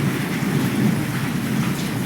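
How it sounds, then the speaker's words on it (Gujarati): A village thunderstorm with strong wind pours steady heavy rain, a dense continuous hiss over a low rolling rumble of thunder, loud and unbroken with no voices. "ગાજને વીજ"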